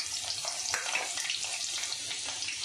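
Garlic dropped into hot oil in a pan gives a close, continuous bright sizzle that holds steady throughout, with no voices.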